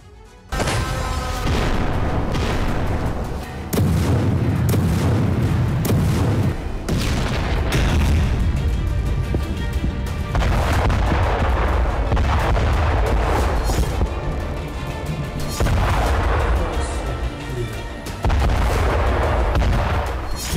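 Heavy booms and blasts of artillery fire crash one after another, loud and relentless, with deep rumbling between explosions throughout.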